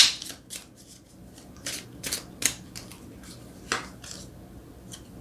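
Tarot cards are shuffled and one is drawn, a run of quick papery riffles and soft slaps at close range, irregular and fairly quiet with no talk.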